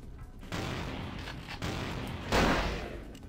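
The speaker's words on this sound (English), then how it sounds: "I'm going to shoot this guy." Gunfire in the video game Vampire: The Masquerade – Bloodlines, with several sharp loud pistol-like shots and booming blasts at irregular intervals over a muffled rumbling background.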